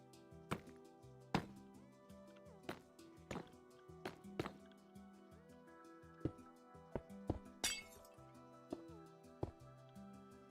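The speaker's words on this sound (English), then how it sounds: "These glass planes are kind of annoying to place because you have to place them in like a couple pixels." Glass panes are set in place one after another while building in Minecraft, each giving a short crisp tap or knock, repeated at an irregular pace over quiet background tones.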